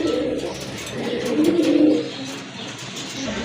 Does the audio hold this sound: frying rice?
no